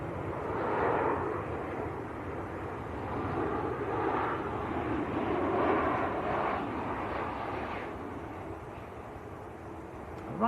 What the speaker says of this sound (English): Ryanair on short finals.